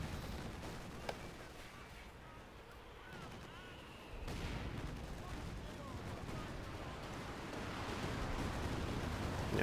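Distant machine gun chatter and artillery fire in Company of Heroes 2 battle, a steady rumbling wash of combat with a sharper boom partway through, no voices.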